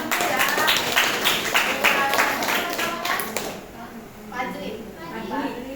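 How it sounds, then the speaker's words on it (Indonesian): Children applaud in a classroom, a dense patter of many small hands clapping together for a few seconds before it fades out, with talk continuing underneath and afterward. "Ini tepuk tangan dulu ya."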